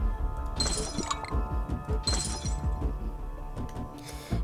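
Glass shattering in the game Plague Inc: Evolved, several sharp breaking crashes with tinkling shards in quick succession, loud and close, each burst followed by clinking debris.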